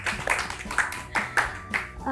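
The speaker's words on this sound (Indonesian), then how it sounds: "Keren, dulu tepuk tangannya dulu teman-teman." A small group claps in an uneven, sparse rhythm, with a few spaced bursts of hand claps over about two seconds. The clapping is moderately loud and mixed with faint voices.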